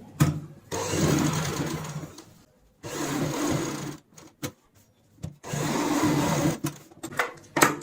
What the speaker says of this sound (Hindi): अब हम यहाँ पे दूसरी साइड में सिलाई लगाएंगे।